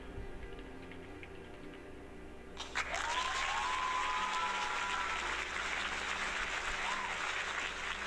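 A cheering crowd sound effect from a space shooter game bursts in suddenly after a short quiet stretch, then holds as a steady wash of applause to the end.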